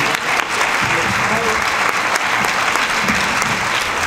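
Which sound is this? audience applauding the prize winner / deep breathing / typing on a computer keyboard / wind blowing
audience applauding the prize winner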